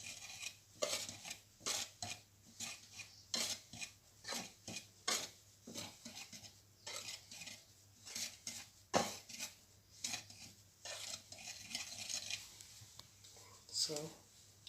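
Dry ingredients for chin chin being stirred together in a bowl, a steady series of scraping, clinking utensil strokes against the sides, close and fairly quiet, with soft speech running underneath.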